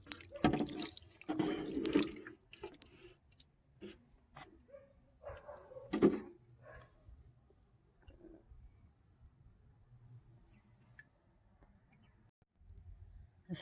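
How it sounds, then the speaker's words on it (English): Rainwater mixed with banana-peel and eggshell soaking water poured onto potted garden plants, heard as faint intermittent splashes and drips close by, with quiet gaps between pours and no talking. "Watering them with a little bit of rainwater mixed with some water that I soaked banana peels and eggshells in."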